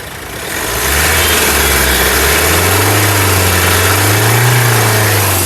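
A 2017/18 Mahindra XUV500 W9 diesel SUV engine runs steadily at a close, loud idle with a low rumble, rising slightly in pitch as it revs gently.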